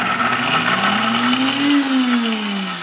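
A blender grinds pork rinds into crumbs, its motor whining loud and steady at close range, with the pitch rising and then falling as the load shifts.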